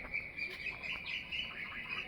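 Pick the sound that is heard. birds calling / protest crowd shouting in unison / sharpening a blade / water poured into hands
birds calling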